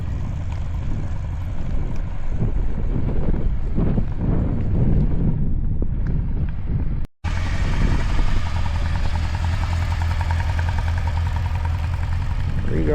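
A Honda Nighthawk CB750 motorcycle engine runs steadily outdoors with wind buffeting the microphone, the sound cutting out for a split second before resuming a strong, continuous drone as the bike pulls away.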